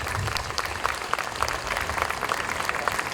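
Applause at a book launch for a children's book, a steady wash of many hands clapping at moderate distance throughout, with no talking over it.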